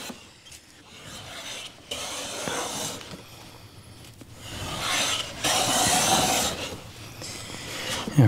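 A hand plane with a standard 45-degree pitch takes very light passes over wood, producing soft rasping strokes that swell and fade several times, loudest near the end, with no talking.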